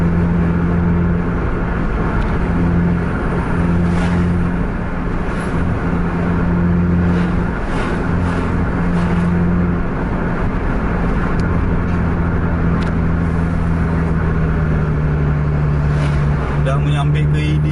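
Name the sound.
Scania bus engine revving while driving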